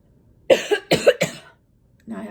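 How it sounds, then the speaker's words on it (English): A few sharp coughs in a quick cluster, close and fairly loud, followed after a pause by a brief murmur of voice. "Now I have a cough."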